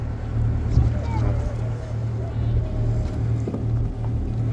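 A boat engine rumbles steadily during docking on a Tenerife boat trip. The low, even hum runs throughout at moderate level, with voices faintly in the background.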